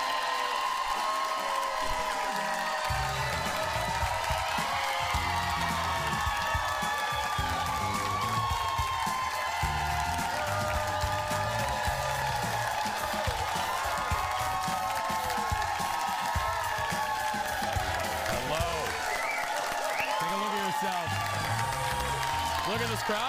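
A television talk show studio audience cheers and applauds steadily for over twenty seconds, a dense, loud wash of clapping, whoops and crowd noise with voices mixed in.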